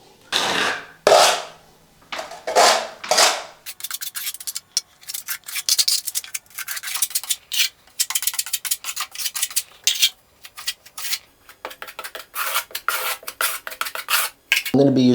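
Gritty scraping and rasping of thin-set mortar being pushed into gaps around a window with a drywall pan, a series of short close strokes with brief pauses and a few metallic taps.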